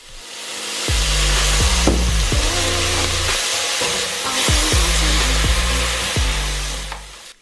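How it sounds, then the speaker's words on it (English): Loud, continuous sizzling and frying as apple cider vinegar hits a hot pan of collard greens, steady hiss with a few clanks and scraping stirs throughout. "Now I'm going in with 2 tablespoons of apple cider vinegar and just listen to that sizzle."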